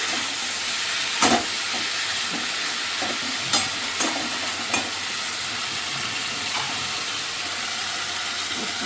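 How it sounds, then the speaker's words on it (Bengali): Hilsa fish head frying with greens and stalks in a pan, a steady close hiss of sizzling broken by several sharp knocks of a spatula stirring, with no voices. "বন্ধু, তো আমার এটা ভালো করে কষানো হয়ে যাচ্ছে।"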